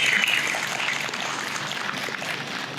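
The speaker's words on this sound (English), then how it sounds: "Can we please take a moment to applaud all of the fire, police, and EMS that are here tonight?" Audience applause for fire, police and EMS personnel at a DUI victim remembrance memorial, a steady wash of many hands clapping that holds for the whole stretch and eases slightly toward the end.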